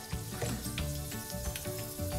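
Fenugreek seeds sizzle softly in hot oil as the first step of a poha tempering, a quiet, even crackle with faint pops and a low tonal hum behind it.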